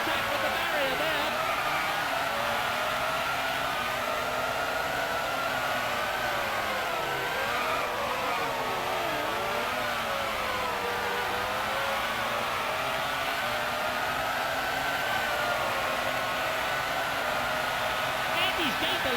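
McLaren Formula One car engine in a PS1 racing game at Monaco, a steady loud high-pitched whine with shifting revs that rise and fall continuously, with a voice talking over it.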